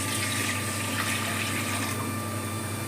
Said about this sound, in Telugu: ఇప్పుడు ఇందులోకి వాటర్ వేసి